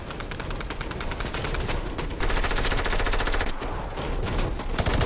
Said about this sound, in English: he's got the drum gun.